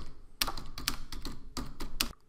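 A computer keyboard being typed on at close range, a quick uneven run of about a dozen crisp key clicks and taps in short clusters, no talk.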